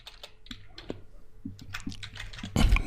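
Code being typed on a computer keyboard: a steady run of close, crisp key clicks at an uneven rhythm, ending in a louder burst of quick keystrokes.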